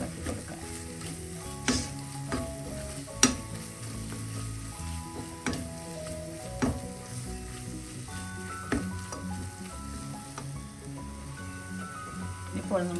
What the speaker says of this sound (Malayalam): നമുക്കെല്ലാം കൂടെ ഒന്ന് ഇളക്കി വെക്കാം